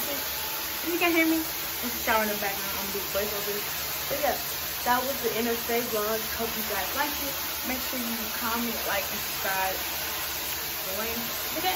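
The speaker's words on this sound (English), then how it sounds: "If you can hear me, I'm showering in the background." A shower runs in the background as a steady, even hiss of spraying water that continues throughout, while a person talks over it up close.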